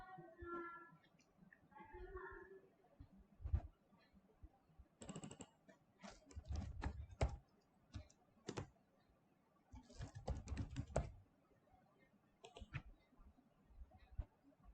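Keys tapped on a computer keyboard in bursts of rapid clicks with pauses between them, close and moderately quiet, while entering Greek symbols into Tecplot software.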